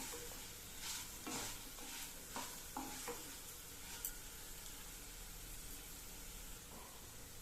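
Mint and tamarind thokku sautéing in a pan sizzles softly throughout, with several distinct scraping stirs of a spatula in the first few seconds, close and moderately quiet, no talk.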